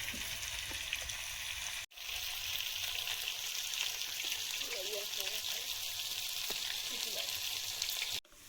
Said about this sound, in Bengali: আলুটা ভাজা হচ্ছে